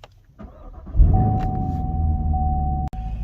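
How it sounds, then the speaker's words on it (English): A 2021 Chevrolet Camaro 1SS engine starts up after a brief electric whir, then settles into a steady, loud, close low rumble as it idles, with no talking. "let's get inside and start this Camaro up"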